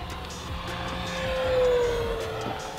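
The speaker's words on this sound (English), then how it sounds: "Nice full throttle speeding, low pass over the runway." An E-flite T-28 Trojan RC warbird on a 4S pack roars past at full throttle in a low pass over the runway, its steady high motor whine swelling as it approaches and fading as it pulls away.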